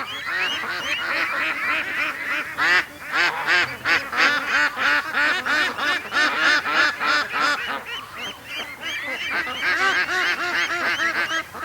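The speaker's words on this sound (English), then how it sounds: "The geese are taking care of the little ducks." A flock of geese honks loudly and continuously alongside ducklings, with rapid overlapping calls close by and a few duck-like quacks mixed in.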